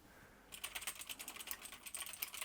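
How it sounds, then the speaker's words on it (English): Fingers typing on a computer keyboard in a cosy apartment, a quick, steady patter of soft clicking keystrokes close by, starting after a brief quiet moment and running continuously with no talking. "Yes, that's a keyboard."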